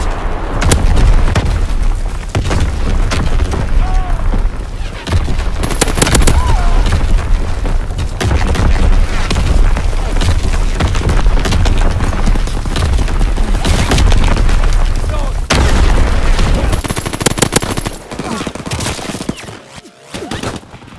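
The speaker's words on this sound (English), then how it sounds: "Firing for full effect." Artillery and gunfire pounding in a video game, a loud, sustained barrage of booms and rapid shots rolling together with little pause, close and heavy, fading briefly near the end.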